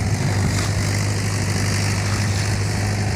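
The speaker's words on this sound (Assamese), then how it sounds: "ট্ৰেক্টৰে এফালে হাল বাই থকা হৈছে" A tractor ploughing a field for rice cultivation, its engine droning steadily and loudly at close range throughout with no breaks.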